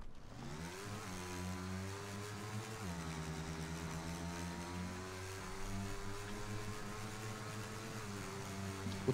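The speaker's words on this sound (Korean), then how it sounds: "오토바이 소리?" Motorcycle engine in PUBG (Battlegrounds), a steady droning hum that rises in pitch a couple of times as it revs, fairly faint and continuous with no talk over it.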